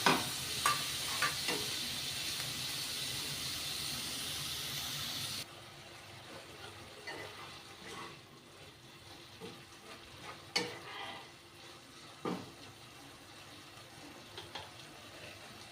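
Chopped tomato tipped into a hot pan of chichinga (snake gourd) with a little water, giving a loud steady sizzle for several seconds that then drops to a quieter simmer with sharp spoon-on-pan scrapes and clinks while stirring.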